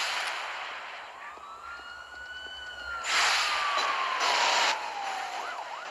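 Ambulance siren in the Gangstar Vegas video game, a loud wailing tone that sweeps slowly up and down, joined by brief louder bursts of noise partway through.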